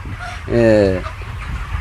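Chickens on a broiler poultry farm give a short burst of clucking, a single close call lasting about half a second amid low background noise.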